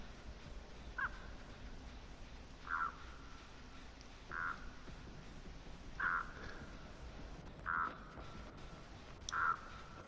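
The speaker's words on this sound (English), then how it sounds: "Leave me alone, crows." Six harsh video game crow caws from Dead by Daylight ring out at regular intervals, moderately loud against a constant faint background hiss.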